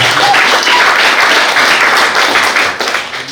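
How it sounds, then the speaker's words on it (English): An audience at a government capacity-building session applauds a minister, dense loud clapping that stays full for about three seconds before tapering off at the end. "Can we clap for her?"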